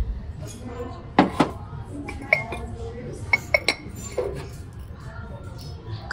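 Ceramic dishes and sugar bowls clink as they are handled at a thrift store, giving several sharp, close taps and knocks at uneven intervals, with faint talk in the background.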